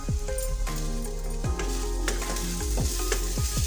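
A spoon stirs aloo mooli bhaji in a hot pan, several quick scraping strokes against the metal over a loud, close sizzle with ringing clinks.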